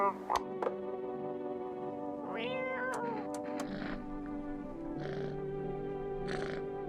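A cat in a horror video game gives a few meows and soft purring over steady game ambience, with a person talking at moments.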